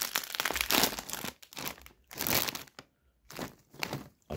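A plastic bag of Lulu Puffs snacks, chili-lime flavour, crinkles and crackles loudly up close as it is handled and torn open, in several bursts separated by brief pauses.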